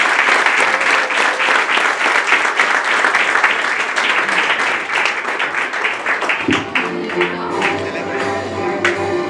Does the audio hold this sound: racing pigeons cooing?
no